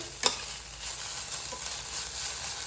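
Onions sautéing in a pan for biryani give off a soft, steady sizzle, with a brief clink or scrape of stirring near the start, close but quiet.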